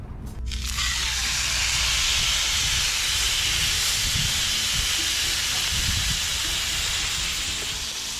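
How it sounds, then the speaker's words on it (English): Flank steak searing on a hot Blackstone griddle set to high heat, a loud steady sizzle and hiss that begins abruptly and continues unbroken at close range, with no voices. "I've got the griddle set to high heat, so we're gonna get a really good sear on it"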